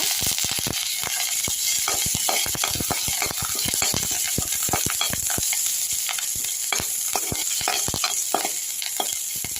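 Mustard seeds and curry leaves crackle and sizzle in hot oil for a ginger-coconut chutney tempering: a steady, dense spitting hiss with rapid popping throughout, close and fairly loud, no talking.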